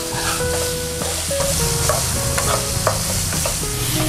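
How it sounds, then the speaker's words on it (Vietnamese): Minced pork stir-frying with golden shallots and garlic in a hot pan, a steady close sizzle with scraping and stirring clatter running throughout, no voices. "mình sẽ đổ cái thịt vô mình xào luôn"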